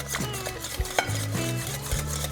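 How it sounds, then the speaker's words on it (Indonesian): A utensil works through thick brownie batter in a bowl, giving a continuous close scraping, stirring sound with occasional light knocks against the bowl under a steady hum of kitchen noise. "Ini kita aduk sampai tercampur rata."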